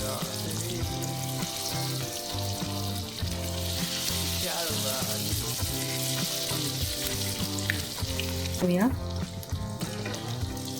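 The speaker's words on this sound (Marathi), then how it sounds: "तेल इथं छान गरम झालेलं आहे आता त्यामध्ये आपण सोडूया छान असं खरपूस तळून घ्यायचं आहे" Potato crispy snacks deep-frying in hot oil give a dense, continuous sizzle and bubbling hiss, loud and close, with faint background music and occasional stirring.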